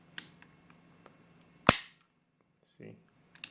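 A Ceonic ISSC M22 single-action pistol being cocked and dry-fired: a few soft mechanical clicks, then one sharp loud metallic snap of the hammer, followed by quieter handling clicks, close up in a quiet room.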